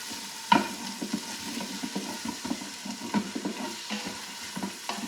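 About a tablespoon of oil stirred into the pot of an Instant Pot while making Guinness beef stew, giving a close, steady frying sizzle with a spoon scraping rhythmically throughout and one sharper knock near the start.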